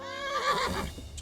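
A horse neighs in the medieval role-playing game Kingdom Come: Deliverance, a loud, close whinny with a wavering pitch that runs for just over a second and then trails off into a brief noise burst.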